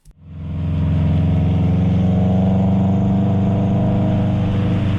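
A steady, deep engine rumble from a Subaru WRX/STI EJ boxer engine with unequal-length headers, with a throbbing low burble, loud and close, holding constant after a brief start.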